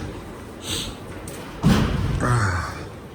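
A door swinging open: a dull thud from the door midway through, followed by a scraping rustle, over a steady background hum.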